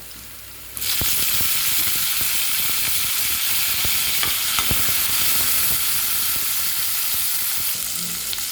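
Tomatoes tipped into a pan of frying onion, garlic and curry leaves, setting off a loud, steady sizzle that swells at the drop and continues with faint stirring clicks throughout, no talking.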